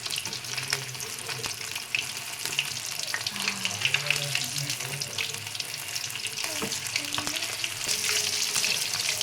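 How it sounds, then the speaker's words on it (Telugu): Fish fries slowly in oil over low heat, giving a constant bubbling sizzle with occasional soft pops and faint utensil stirring, steady and close throughout. "ఇలా సిమ్లో పెట్టి చేసుకుంటే ఇలా నిదానంగా ఉడుకుతాయి"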